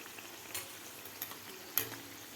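Soft, steady bubbling and hissing of oil at low volume, with a few faint crackles breaking through, as peas-filled kachori deep-fry over medium heat.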